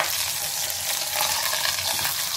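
Leg of lamb sizzles steadily in a hot pan as it is turned, a loud close frying hiss with faint scraping, no voices.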